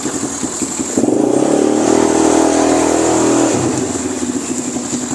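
A G-Force 200cc four-by-two ATV with an open exhaust pipe idles with a rapid, lumpy putter, then revs into a loud, raspy roar for about two seconds before settling back to a choppy idle, close by with no talking.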